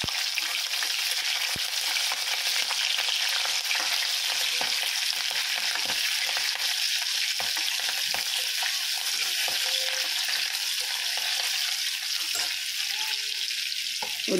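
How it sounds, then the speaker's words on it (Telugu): Green chilies fry in oil for chole curry, giving an even, close crackling sizzle that runs without pause, with occasional faint stirring ticks. "అవి కొంచెం బ్రౌన్ కలర్ వచ్చే వరకు వేయించండి."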